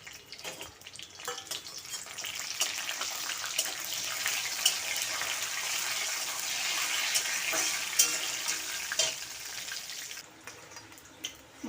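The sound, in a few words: spices with dried chili and bay leaf frying in oil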